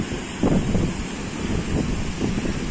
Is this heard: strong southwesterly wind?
yes